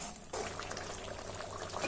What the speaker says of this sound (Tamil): இது இன்னும் கொஞ்சம் நேரம் நல்லா கொதிக்கட்டும்